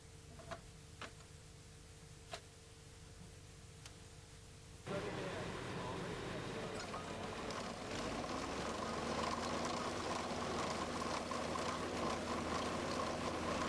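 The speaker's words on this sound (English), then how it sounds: "this chain excavator makes it possible to quickly dig narrow trenches for pipes or cables" A 1980s Huddig chain excavator digs a narrow trench for pipes or cables, giving a steady, loud mechanical clatter with dense ratcheting ticks that starts abruptly partway through and continues to the end, preceded by quieter machinery and a few sharp clicks.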